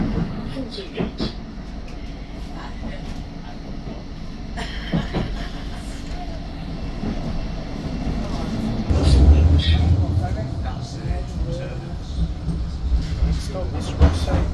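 A tram bound for Fleetwood Ferry rumbles along steadily with low rolling noise, swelling louder midway, as an onboard announcement voice speaks.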